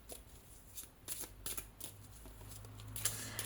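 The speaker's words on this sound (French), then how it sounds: "je rebrasse" A deck of oracle cards being shuffled by hand, producing quick papery riffling bursts in an uneven rhythm that grow denser toward the end, close and clear with no talking.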